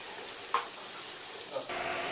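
Ground spice paste with coconut hits a hot pan and sizzles steadily, with two faint clinks of a utensil before a louder frying hiss takes over near the end.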